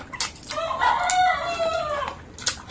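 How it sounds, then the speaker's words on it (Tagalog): A rooster lets out a long, clear crow close by, with a few short clucks around it. "Kaya wala na kami background music, guys. Manok na. Sound of nature."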